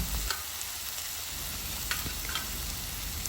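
A pan of khichuri ingredients with ginger-garlic paste is stirred and mixed, a steady broadband sizzle running throughout with a few soft scrapes of the spoon, close and moderately quiet, no talking.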